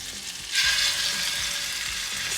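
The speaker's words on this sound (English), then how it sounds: "And then add the salmon pieces." Salmon pieces hit butter in a pan, and a bright sizzle surges up and holds steady as the fish fries.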